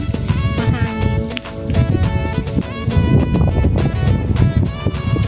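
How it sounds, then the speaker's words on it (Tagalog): Strong wind buffets the microphone throughout, a steady loud roar with rumbling gusts, while a voice speaks faintly underneath in Tagalog. "Sobrang hangin niya."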